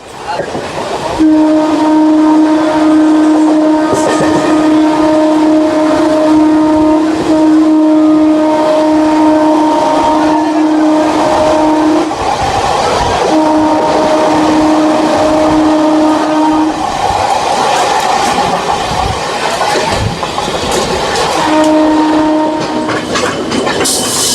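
A local train on the Howrah to Puri line rumbles along loudly with rhythmic clatter, arriving at Santragachi, sustained horn blasts sounding repeatedly over the noise.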